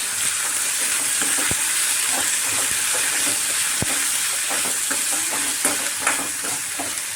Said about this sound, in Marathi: आता ह्या पूर्ण गवारीच्या शेंगा याच्यामध्ये टाकायच्या. आपण आता मिक्स करून घेऊयात.